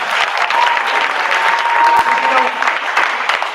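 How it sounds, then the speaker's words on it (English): Audience applause at an outdoor noontime stage show, a loud, dense burst of clapping that holds steady for several seconds. "a round of applause for the frog"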